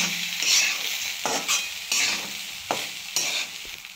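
Lemon rice is stir-fried in a pan, a soft sizzle broken by repeated scraping stirs of a spatula, close and fairly quiet, with no voices.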